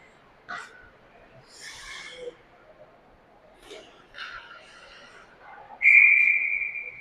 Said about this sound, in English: we do get a whistle